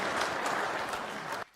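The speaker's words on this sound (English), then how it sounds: "a round of applause as he makes his way up" Steady applause from a seated audience at a live event, loud and dense for over a second before cutting off abruptly.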